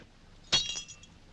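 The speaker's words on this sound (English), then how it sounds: "Does it break because it is faulty or because it is glass?" A drinking glass shatters once, a sharp bright crash followed by a few short tinkling fragments, close and alone in a quiet room.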